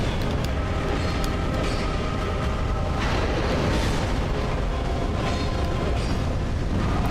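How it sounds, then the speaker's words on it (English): A boss's leaping attack triggers a fiery explosion in Dark Souls 2, heard as a broad, loud burst of rumbling noise that swells partway through and keeps roaring steadily to the end, with no talking. "every time there's a leap, there's a following explosion"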